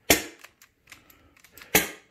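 Tiberius T9.1 less-lethal launcher with Eco Tech upgrades firing two sharp pneumatic cracks about one and a half seconds apart, loud and close, with faint clicks between.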